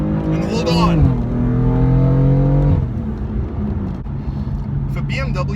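A tuned BMW M4 pushing over 600 horsepower revs loudly and close on a downshift, its engine note climbing, holding at a strained pitch, then dropping back to a lower drone.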